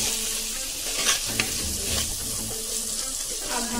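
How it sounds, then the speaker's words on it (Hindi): Garam masala fries in a pan with a dense, loud sizzle, overlaid by close scraping stirs and a few sharp clinks of the spoon against the pan, with no talking. "एक स्पून गरम मसाला, इसे अच्छी तरह से भून लेंगे।"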